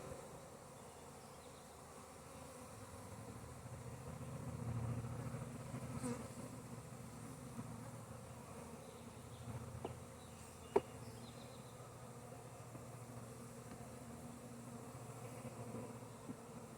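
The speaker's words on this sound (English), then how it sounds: "I'm looking for a bunch of bees like kind of facing inward in a circle or something, because they tend to do that." Honeybees drone softly and continuously during a beehive inspection, a faint, steady buzz with a few brief knocks and taps near the hive, no voices.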